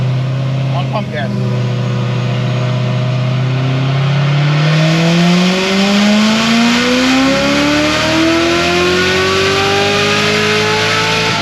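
A Corvette C7 Z06 with an RPM Stage 4 build on pump gas makes one long dyno pull, its loud, close engine note climbing smoothly and steadily in pitch for several seconds.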